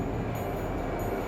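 A New York City subway train rumbles steadily underground, a loud, continuous low roar of wheels and cars with faint high squeals on top.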